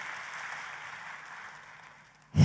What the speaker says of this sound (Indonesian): Tepuk tangannya boleh yang paling dahsyat buat Yesus Tuhan kita.